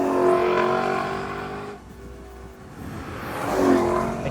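A 2020 Lexus LC500 Inspiration Series with a naturally aspirated 5-litre V8 revs hard, a loud engine roar that climbs, drops back to a quieter idle, then surges again near the end.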